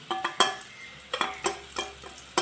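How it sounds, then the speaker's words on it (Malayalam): Onion and green chili with turmeric and pepper being sautéed in a pan, with soft sizzling under a series of sharp, rhythmic stirring scrapes and clicks, close and fairly quiet, no talking. "അതിൻ്റെ ആ പച്ചക്കൂട്ട് മാറുന്ന വരെ നമുക്കൊന്ന് വഴറ്റി കൊടുക്കാം"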